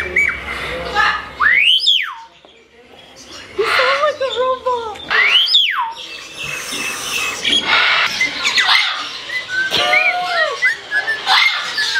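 A myna bird song played back from a device, with rising and falling whistled notes and chirps repeating through the clip, loud and mixed with dog whimpers, yips and barks and some talking.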